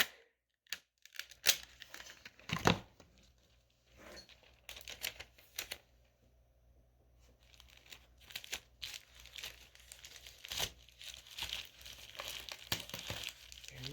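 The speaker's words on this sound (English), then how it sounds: "let's just put some tape on that" Tape is torn and pressed onto a die storage sheet, with scattered crinkles, sharp rips and soft rustles coming in irregular bursts, close and fairly quiet, with a low steady hum beneath.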